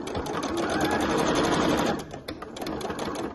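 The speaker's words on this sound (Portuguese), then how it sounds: "E vou fazer essa costurinha bem devagarinho em cima da minha marcação." A sewing machine stitching a seam on a fabric clutch bag runs in a fast continuous whir close to the microphone, then slows into a few short, choppy bursts of stitches.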